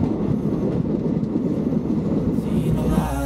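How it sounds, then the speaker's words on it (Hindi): Train travelling from Banihal to Srinagar through the Kashmir valley in heavy snow, a steady loud rumble of wheels and carriage noise throughout with faint clatter, close and continuous. "ट्रेन चल रही है"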